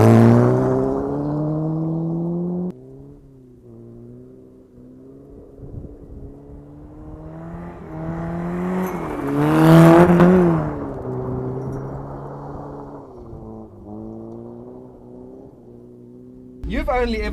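A Toyota TE71 Corolla engine heard from outside, revving up and down in several swells with a rising, whining harmonic tone that peaks loudly midway, then settles to a steady drone before a final quick rev.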